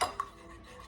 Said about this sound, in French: Vous allez mélanger dans un bol la levure avec le lait tiède et avec l'eau tiède